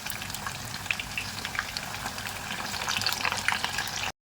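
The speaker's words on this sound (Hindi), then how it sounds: "अच्छे से फ्राई कर लेंगे इसको।" Chicken vegetable spring rolls fry in a pan of hot oil, a continuous close crackle and fizz with scattered pops that builds slightly before cutting off abruptly.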